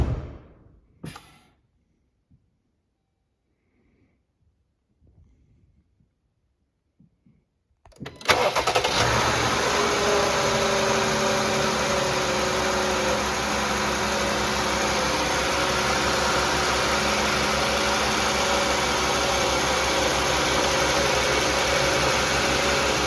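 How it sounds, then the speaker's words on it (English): Near silence with a few faint clicks, then a 2018 Chrysler Pacifica minivan engine cranks and catches, settling into a steady, loud idle for the rest of the clip. "go ahead and start your engine, let that run for about a minute"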